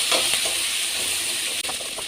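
Green chilies, dried red chilies and curry leaves frying in hot oil for tiffin sambar, giving a steady, close, continuous sizzle with a short break near the end.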